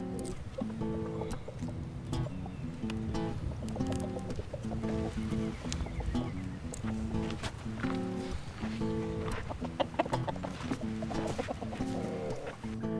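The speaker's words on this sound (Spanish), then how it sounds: "Bueno, ya están listos los gallos." Fighting roosters being readied for a cockfight cluck and squawk repeatedly in a steady, busy stream, close and continuous, with little talk over them.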